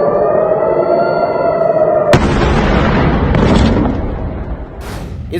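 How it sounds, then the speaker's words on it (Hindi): A ballistic missile strike in Israel lands with a sudden loud blast that cuts off a wailing air-raid siren, followed by a rumbling roar that fades over a few seconds. "इस वीडियो में बैलिस्टिक मिसाइल से हमले का दावा किया गया है।"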